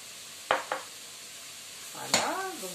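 Courgettes tipped into a hot frying pan and stirred with a utensil, two quick clatters followed by a steady background sizzle and a louder scrape and hiss, no voices.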